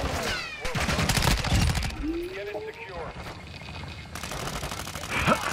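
Gunfire in Call of Duty MW2 DMZ comes in bursts and single shots amid game effects, loud and close, while players talk over it.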